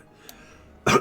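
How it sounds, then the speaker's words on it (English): A single short cough bursts out sharply near the end after near silence, close and loud, from a player during a Diablo 2 Lord of Destruction session. "Have to cough here, I might have to mute the mic."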